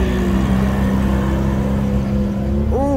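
An MG convertible driving onto the show field at the 2021 AACA Hershey car show gives a loud, steady engine drone close by, with a rising whine as it revs near the end.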